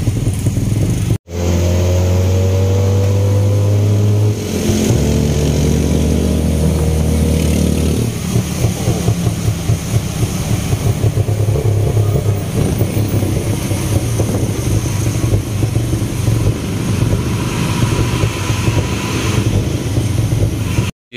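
A motorcycle passes at Hua Lamphong railway station in Bangkok, its engine droning and revving amid a loud, continuous wash of traffic noise, with no speech.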